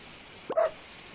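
A single short, soft bark from a dog in the farming sim game Everdream Valley, one brief yip over a quiet steady background.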